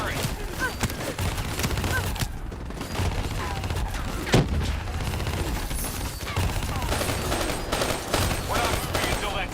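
Turret gunfire in Call of Duty Black Ops 3, heard as continuous rapid bursts with heavy thuds and battle noise, with voices shouting over the din.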